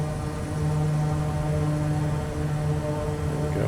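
A Kodiak 100 turboprop's engine holds a steady, even roar and whine at full RPM while building torque on a Papua New Guinea airstrip, heard from inside the cabin with no talk.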